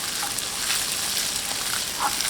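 Pad Thai noodles stir-fry in a hot pan with a steady, close sizzle and faint scraping stirs throughout, with no voices.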